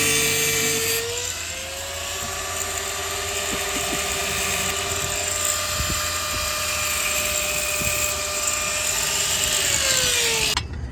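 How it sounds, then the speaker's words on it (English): A rotary cutting tool slices through a bolt taken from beside a car engine's valve cover, giving a sustained high grinding whine that spins up, holds steadily for about ten seconds and then winds down, loud and close. "We had to cut the bolt"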